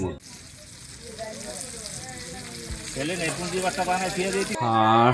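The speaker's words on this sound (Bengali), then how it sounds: "আমাদের জন্য ইলিশ ভাজা হচ্ছে" Hilsa fish frying in oil at a food stall in Kuakata, a constant crackling sizzle close by, with people talking over it and a tonal burst near the end.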